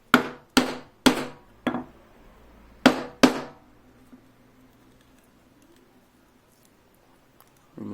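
A chisel driven by mallet strikes chops a mortise into wood: five or six sharp, loud knocks in an uneven rhythm close by, then quiet with faint scraping.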